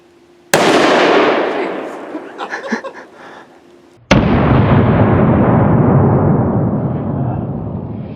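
Two very loud, close gunshots from a .50 caliber Desert Eagle .50 AE pistol fired outdoors, each a sharp blast followed by a long rumbling echo, with a brief voice between them.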